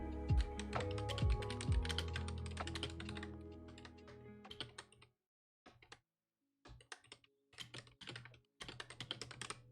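Dense, fast typing on a computer keyboard writing a note, steady close clatter for several seconds, then a pause and shorter scattered bursts of keystrokes, with a low hum under the first part.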